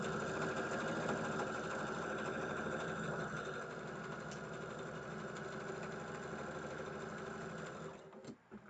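A sewing machine stitching fabric, a steady fast mechanical whir and rapid needle clatter running for most of the clip before stopping with a few clunks near the end, close and alone.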